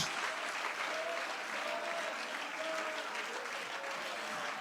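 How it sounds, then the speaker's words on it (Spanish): A church congregation applauds during a sermon, sustained even clapping that holds steady throughout, with a faint tonal hum or distant voice trace running underneath. "Dale ese aplauso."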